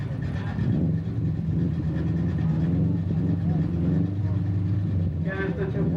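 A Mustang and an all-wheel-drive Subaru drag race at Waterford, Connecticut, their engines a steady loud roar with rising rumble throughout, under a voice talking over the noise.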